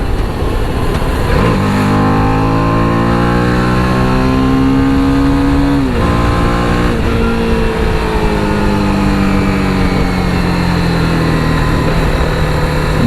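A TVS Apache RR 310 motorcycle, ridden in urban mode on a winding road, accelerates with the throttle repeatedly opened, its loud, close engine note climbing and dropping through several rising harmonic sweeps over about thirteen seconds.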